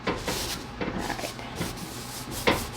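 Grill grates being scrubbed to remove char after grilling chicken, repeated rough rubbing strokes in an uneven rhythm, close and moderately loud with no talk.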